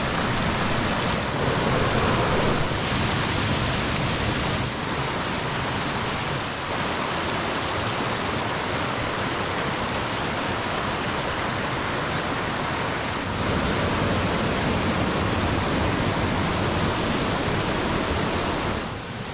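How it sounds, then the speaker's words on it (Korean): A mountain valley stream in a national park rushes steadily over rocks, a dense, continuous close-up wash of flowing water with no voices, holding even in level throughout. "계곡 물소리 나레이션으로 대신할게요"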